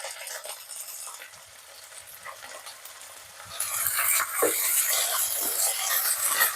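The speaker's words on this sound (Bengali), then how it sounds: "আদা রসুনটা যতক্ষণ ভাজা হচ্ছে" Ginger garlic paste fries in hot oil after browned onions, for a potato and cauliflower dum. A steady sizzle grows louder and brighter partway through, with occasional stirring scrapes.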